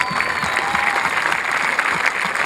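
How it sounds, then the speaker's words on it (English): An audience applauds a mariachi ensemble at a graduation ceremony, a dense, even wash of clapping that holds steady throughout. "Can we give you guys a big round of applause?"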